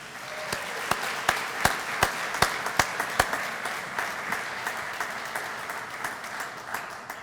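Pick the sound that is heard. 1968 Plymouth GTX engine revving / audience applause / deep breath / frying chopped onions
audience applause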